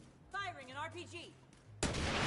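An RPG is fired in the video game The Division 2, with a sudden loud blast bursting in near the end after a short stretch of talk over a low game hum.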